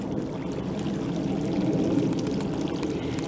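A garden pond fountain pouring water in summer, a steady, even splashing rush running unbroken and fairly close, with no voices.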